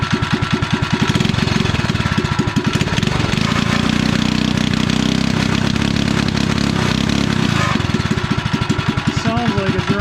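A REO Trikeabout's small engine runs steadily at about full throttle through its newly installed muffler, a loud, continuous chugging drone close by with a slight wavering in pitch, without any talk.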